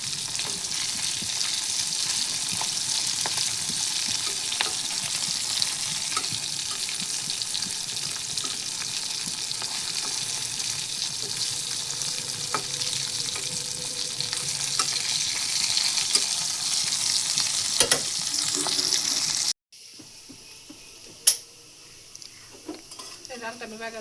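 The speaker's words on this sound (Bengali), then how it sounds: "ডালটা আমি বাগা দিয়ে নিই" Dal being tempered in a frying pan crackles and sizzles in a steady hiss for most of the stretch, with light stirring clinks, then cuts to quieter kitchen sounds with a sharp pan knock near the end.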